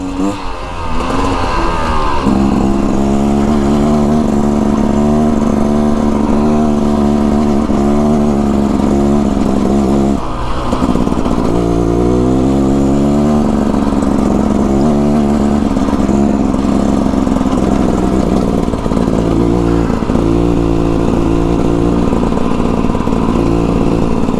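A 2024 Beta Xtrainer two-stroke dirt bike engine buzzes and revs continuously on a mountain trail, rising and falling as the rider shifts, loud and close throughout with no talking.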